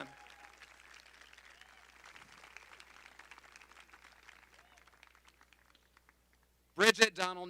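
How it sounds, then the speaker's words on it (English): An audience at a library groundbreaking ceremony applauds, a faint, steady patter of many hands that thins out and stops, followed by a brief loud burst of speech. "You can clap. We're going to clap a few times for them."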